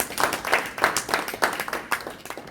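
A small group applauds at a Toastmasters meeting, a steady patter of hand claps at moderate loudness, fairly close, carrying on without a break and with no voices over it.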